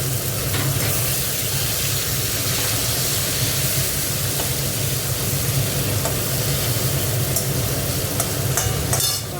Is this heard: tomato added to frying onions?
yes